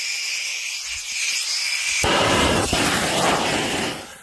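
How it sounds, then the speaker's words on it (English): Neon canister firework shells launching outdoors: a faint hiss at first, then at about two seconds a loud burst of roaring, hissing launches that sustains to the end. "I believe we got four shells going up."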